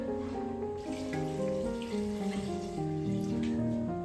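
Water is poured into a cooking pot of soaked rice and mutton, a steady splashing gush lasting several seconds, close and fairly loud, with no talk.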